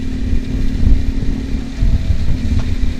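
Motorcycles rumble along a road with a steady low engine drone and rough traffic noise throughout, near and loud, no talking.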